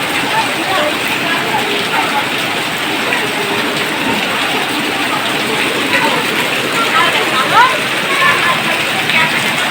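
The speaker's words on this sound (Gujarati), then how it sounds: "આટલો વરસાદ ચાલુ છે" Steady, dense rain in Kodinar hisses continuously, with faint voices and occasional louder patter in the mix.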